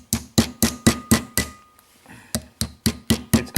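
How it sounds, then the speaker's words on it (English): Sharp metallic ball peen hammer taps driving a front wheel bearing into a 1997 Ford E150 brake disc, in a steady rhythm, about a dozen blows with a brief pause midway, close and loud. "I just have to tap this in with the ball peen hammer."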